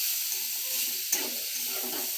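Food frying in a pan on a home kitchen stove as it is stirred, a steady soft sizzle throughout with one brief scrape of the spoon near the middle, no voices.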